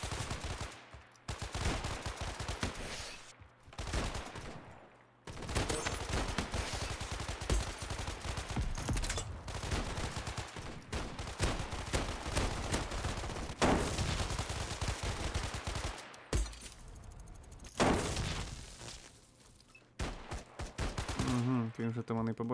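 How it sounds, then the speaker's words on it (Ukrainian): Rapid bursts of pistol gunfire in the video game ShatterRush, dense and repeated over game action and ambience, with short pauses between volleys. "З пістоля стріляти?"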